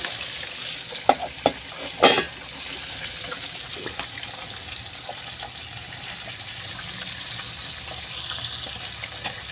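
Sinigang na hipon, a sour shrimp soup, bubbles in a pot as a steady hiss, with a few sharp clinks early on and no talk.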